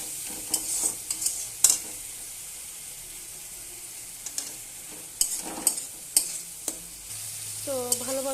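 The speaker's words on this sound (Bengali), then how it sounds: "এবার আমি ভালোভাবে কষাবো মশলাটাকে।" Spices with ginger-garlic paste, turmeric, chili and coriander-cumin powder fry in a pan while a utensil stirs them, giving a soft sizzle broken by sharp scraping clinks at irregular moments, fairly close and with no talk.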